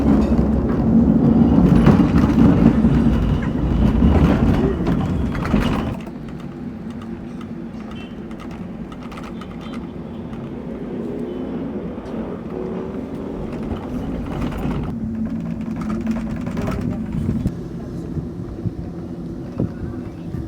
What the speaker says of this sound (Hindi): तो यहाँ पे रोपवे राइड लेने जा रहा हूँ